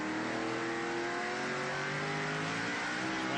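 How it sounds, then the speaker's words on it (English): NASCAR SuperTruck racing trucks at the 1995 Ford Credit 125 on the Mesa Marin short track produce a continuous, loud, dense engine roar as the pack runs together. "And Paul, the trucks now are into what we call a classic Saturday night short track action"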